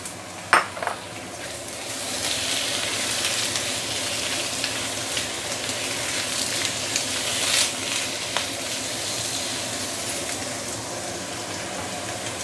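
Beehoon rice noodles with cabbage fry in a wok, giving a steady, loud sizzle throughout with a couple of early clanks of a utensil against the pan.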